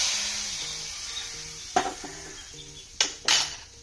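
Hot tempering poured into beef curry hisses with a fading sizzle, then a metal utensil clinks and scrapes against the pot in a few sharp close knocks near the end.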